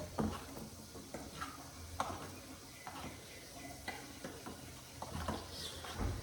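Water coming to a boil in a cooking pot for ragi mudde, with irregular close bubbling pops and ticks over a steady low simmering rumble, no voices.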